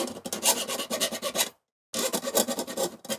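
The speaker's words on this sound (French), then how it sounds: "Tu prends ton cuivre. Avec une lime, tu viens un petit peu enlever toutes les petites barbes qu'il peut y avoir." A hand file rasps across the cut end of copper pipe to strip off burrs during a van gas installation, close and fairly loud in quick repeated strokes, with a short pause before the strokes resume.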